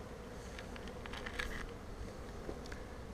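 Honey bees buzz faintly around a hive entrance, several passing close in brief swells over a soft steady hum.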